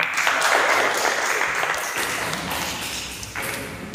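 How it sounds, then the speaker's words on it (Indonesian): A small counseling group in a classroom claps together in a brisk burst that thins out after a couple of seconds, ending in a few scattered taps and thumps nearby. "Oke, tepuk tangan."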